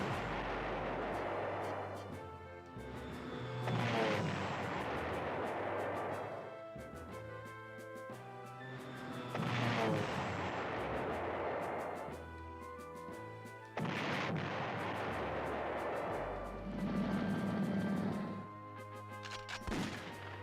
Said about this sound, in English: Our strategic bombers also do us the favor of destroying enemy entrenchments